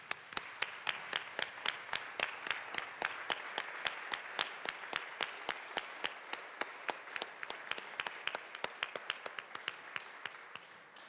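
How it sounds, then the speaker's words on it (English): Legislators in a state house chamber give a round of applause for guests, a sustained run of crisp claps heard at a distance with regular sharp accents throughout. "I would ask for a round of applause for our amazing guests"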